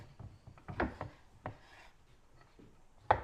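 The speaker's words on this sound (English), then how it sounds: "So we're just roughly chopping everything up." Vegetables for homemade ketchup, unpeeled and uncored, are roughly chopped on a board: a handful of uneven knife thuds and scraping rubs, close and moderately soft, ending in one sharper hit.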